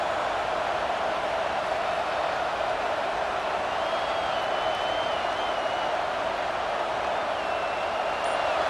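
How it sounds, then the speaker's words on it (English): A home crowd roars steadily in a college football video game, a dense, unbroken wall of cheering noise at even loudness with faint whistle-like tones riding on top. "this home crowd is fired up and ready to make a difference today"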